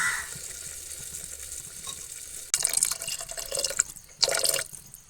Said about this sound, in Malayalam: ആവശ്യത്തിന് വെള്ളം ഒഴിക്കുക